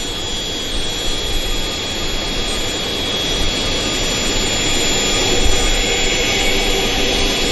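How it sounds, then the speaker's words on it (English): Avro RJ (Avroliner) jet engines start up on the ramp at Vancouver airport, a loud, steady, roaring whine heard close by that holds and builds slightly, with no voices over it. "Always nice to see an Avroliner start engines just 50 feet from where you're standing"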